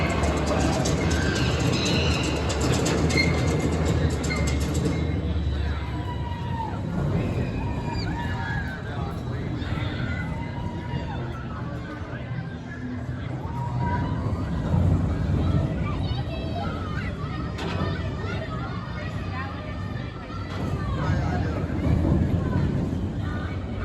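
The Tumbili spinning roller coaster at Kings Dominion rumbles and rattles along its track with wind buffeting the microphone, a continuous noisy ride under frequent voices and shouts from riders.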